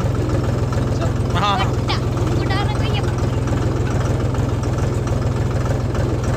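A tractor engine runs loud and steady at a low, throbbing idle, with a constant rhythmic chug throughout. Voices speak briefly over it.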